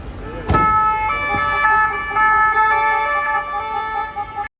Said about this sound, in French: Quand la France a gagné, les flics ont célébré ça avec leurs sirènes